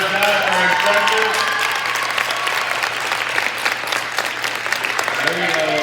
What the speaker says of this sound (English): Instructors, round of applause for our instructors.